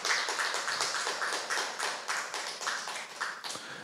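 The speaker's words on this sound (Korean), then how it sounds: "박수 한번 치세요." A lecture audience in Korea claps hands together, a soft, fairly even patter of applause with slight swells, heard at a distance and fairly faint, with no speech over it.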